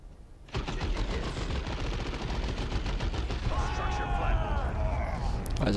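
A heavy gun fires in rapid sustained bursts in the Dawn of War 2 game, loud dense rattling that continues almost the whole time with other battle noise layered on top.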